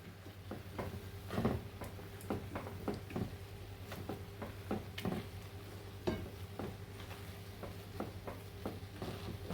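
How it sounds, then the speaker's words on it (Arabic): Boiled potatoes are mashed in a bowl, producing quiet, irregular soft thuds and squishy clicks repeated over several seconds above a low background hum. "دلوقتي هنهرس بطاطس مسلوقه"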